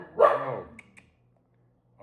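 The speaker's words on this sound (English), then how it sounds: "My dog goes crazy." A pet dog lets out one short, close bark, then the room falls quiet; a person speaks a single brief word.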